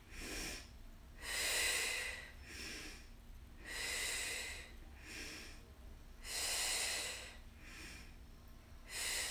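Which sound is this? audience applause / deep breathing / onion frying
deep breathing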